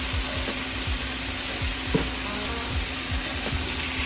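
Butternut squash cooking in a pan for lasagna, a low steady sizzle under a constant hum, with soft repeated scraping of a spoon stirring through the pieces.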